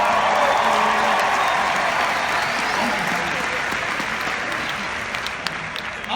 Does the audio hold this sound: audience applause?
yes